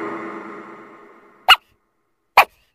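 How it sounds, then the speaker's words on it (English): A dog gives two short, sharp barks about a second apart. Both are brief and clear, with near-silence between them after a faint hum at the start. "D for dog"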